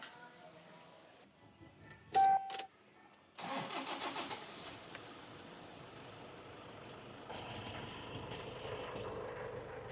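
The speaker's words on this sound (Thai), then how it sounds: "เดี๋ยวผมจะขออนุญาตไปสตาร์ทเครื่องยนต์นะครับ แล้วก็ฟังเสียงกันดูสักรอบหนึ่งนะครับ" A Toyota Hilux Tiger 2.5 D4D 4x4 diesel pickup cranks and catches after a few seconds of quiet and a brief electronic chime, then settles into a steady, rumbling idle nearby.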